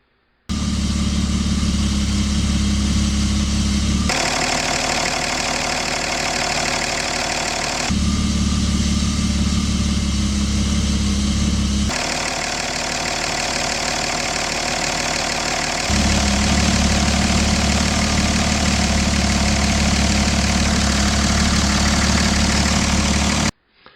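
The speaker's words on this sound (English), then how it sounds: "let's now take a listen to both of them combined, and from that you should be able to figure out that the Otto sounds a little quieter than the diesel" An Otto (petrol) engine and a diesel engine run in turn, the running sound switching every few seconds between a quieter smoother drone and a louder, harder knocking idle.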